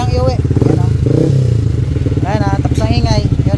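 A Yamaha Sniper 155 motorcycle engine with a newly fitted manual tensioner idles close up with a steady, rapid clattering pulse, while people talk over it.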